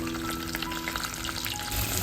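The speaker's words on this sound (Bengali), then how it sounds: "আর কি চিংড়ি মাছগুলো দিয়ে দিচ্ছি চিংড়ি মাছ কিন্তু অতিরিক্ত ভাজা যাবে না" Prawns frying in hot mustard oil for a green coconut prawn dish give off a steady, close, continuous sizzle with a crackling hiss throughout.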